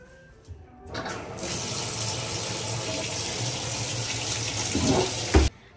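Hot and cold water running from a household tap into a sink, a steady close rushing stream that starts after a click and stops abruptly with a thud near the end.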